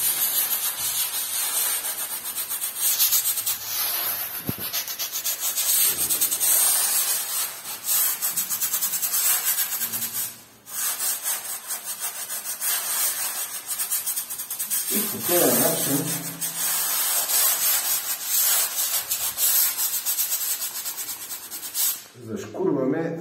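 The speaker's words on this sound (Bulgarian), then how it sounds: "Зашкурваме зацапаните места." Stained spots on a wall are sanded by hand with sandpaper on a homemade holder before latex painting, giving a steady, close, continuous rasping scrub with brief breaks between strokes.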